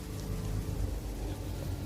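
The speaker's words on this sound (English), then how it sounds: "It's raining again?" Steady rain in the video game Genshin Impact, a dense continuous patter with a low rumble underneath, even and unbroken throughout.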